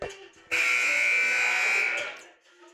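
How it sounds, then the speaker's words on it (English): A loud, sustained electronic buzzer sounds for about a second and a half in a gym during a girls varsity basketball game, with crowd noise and a commentator's voice around it. "First buzzer goes off there."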